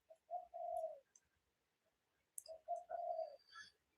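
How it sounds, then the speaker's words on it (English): Pigeons coo softly in a backyard in two repeated phrases, each a short series of low hoots, with faint chirps and tweets from other birds around them. "you can hear the pigeons and other birds in the background"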